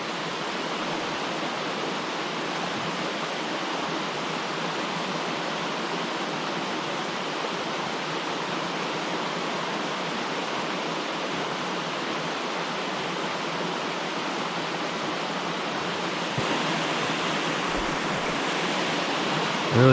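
Brook water flowing, a loud, dense and constant rush of moving water heard up close, growing slightly brighter near the end, with no one speaking.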